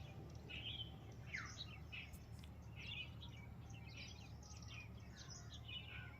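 Many birds chirp and call in a forest, a busy chorus of short tweets scattered throughout over a low steady background hum.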